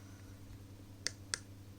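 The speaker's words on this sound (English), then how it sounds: "If you press the hash button," Two quick, faint plastic clicks of the hash button on a Retevis RT84 budget two-way radio keypad, pressed about a quarter second apart against a quiet room hum.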